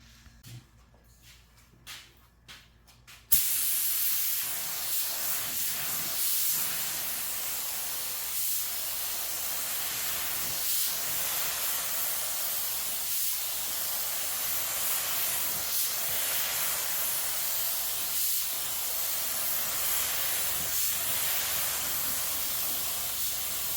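Rust-Oleum Stone Gray satin spray paint hisses from an aerosol can in one long, steady, close spray lasting about twenty seconds after a few quiet handling sounds.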